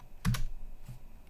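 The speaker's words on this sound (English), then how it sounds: "So I'm going to type df -h." Computer keyboard keystrokes while typing the df -h command on a Raspberry Pi 5 setup: a quick close pair of key clicks, then one softer tap, with no speech.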